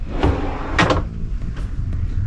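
Cabin drawers sliding open and shut aboard the MSC Seashore cruise ship, two or three sharp close knocks and thuds in quick succession, loud and near with no talking.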